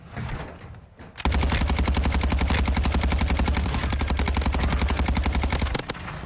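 Rapid automatic gunfire from a first-person shooter video game rattles in a long, steady, loud burst with evenly spaced shots that ends abruptly, with no talking over it.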